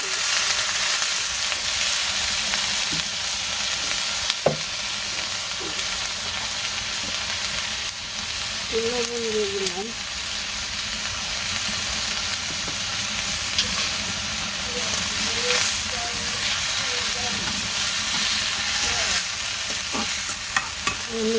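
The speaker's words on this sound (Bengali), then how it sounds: "আলু উস্তে ভাজা হয়েছে নামিয়ে নেই" Potatoes and bitter gourd fry in a pan with a steady, close sizzle and occasional stirring scrapes throughout, no voices heard.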